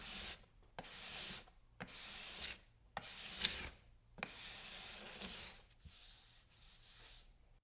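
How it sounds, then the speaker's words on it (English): A card scraper is drawn over the seams of a wooden bench top in about seven separate strokes. Each one is a close, breathy scrape, with short pauses in between and no talking. "The card scraper is a great tool to use to get that fine finish on the seams."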